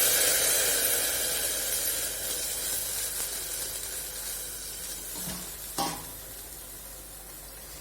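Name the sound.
cardamom and cloves crackling while frying for halwa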